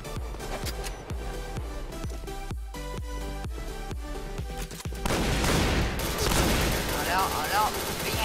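Rapid gunfire from the online shooter Point Blank, delivered as a rhythmic series of sharp shots, gives way to a dense, louder barrage of automatic fire, with voices talking underneath.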